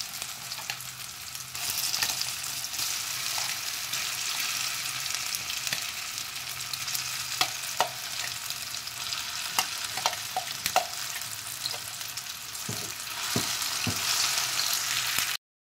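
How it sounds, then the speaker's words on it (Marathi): Soaked red chili paste for Schezwan chutney is dropped into hot oil and stirred, giving a steady close sizzle and hiss over sixteen seconds, with scattered spoon clinks and scrapes against the pan, and no talking. "तेल तापलेलं आहे, त्याच्यामध्ये जे मिरचीचं केलेलं ते घालायचं"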